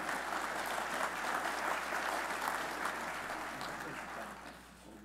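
A crowd at an awards ceremony applauds steadily as recipients make their entrance onto the stage, a dense, sustained wash of clapping that fades slightly toward the end.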